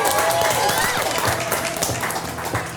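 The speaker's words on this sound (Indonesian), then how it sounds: "kita kasih tepuk tangan dulu" Studio audience applause on an Indonesian comedy variety show, a dense wash of clapping sustained throughout with voices and whoops mixed in near the front.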